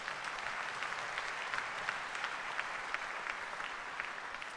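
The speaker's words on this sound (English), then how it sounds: "let's have a round of applause for that" Sustained audience applause at a university graduate school spring commencement ceremony, a dense, even wash of many hands clapping from a large crowd, steady throughout with no voices over it.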